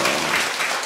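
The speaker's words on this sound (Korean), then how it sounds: "우리 기립박수로 한번 격려하시겠습니다." A church congregation at a Sunday worship service rises in a standing ovation, dense steady applause filling the room throughout without a break.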